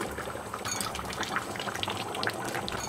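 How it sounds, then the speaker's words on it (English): Ground almonds stirred into a cauliflower, butternut squash and sweet potato vegetable curry, giving a steady, close wet bubbling and scraping texture throughout, with no talking. "Stir those in for a minute or two."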